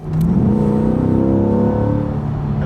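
A naturally aspirated convertible car with a hardtop accelerates hard, its engine rising in a loud, close, continuous rev with a climbing harmonic whine that sweeps up steadily, no voices.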